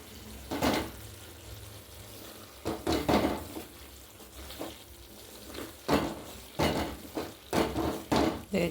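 A lid is lifted off a cooking pot of carrot pickle, with several clanks and scrapes of metal against the pot spaced irregularly over a quiet bubbling background.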